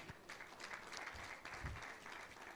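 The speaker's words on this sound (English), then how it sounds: "A round of applause for him." Audience applause at a faculty lecture on glaucoma care in Nigeria, a steady wash of clapping from a seated crowd lasting a few seconds, moderately faint and even throughout with no voices over it.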